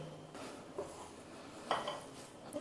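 Kofta ingredients with green coriander, salt and cornflour being mixed in a bowl, giving a few soft scraping and clinking knocks of a utensil against the dish, close and fairly quiet with no talking.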